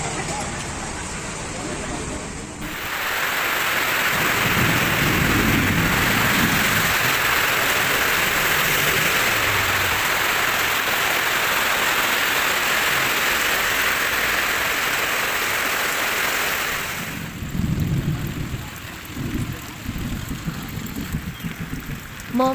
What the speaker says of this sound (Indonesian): Hujan sore hari di Makassar sangat deras